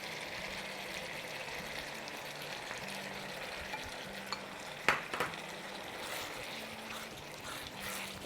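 Yogurt is stirred into spices frying in a pot, a soft, low sizzle running throughout with a couple of brief scraping knocks from a spoon near the middle.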